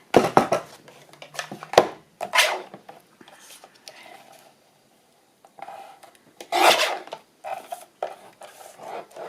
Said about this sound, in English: I'm just going to trim it down a bit.